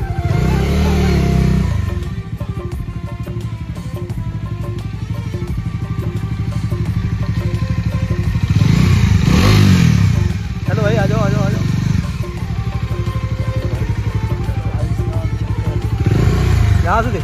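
A motorcycle rides along on a trip from Noida toward Nainital in Uttarakhand, its engine droning steadily throughout with brief swells as it revs, while people talk over the noise.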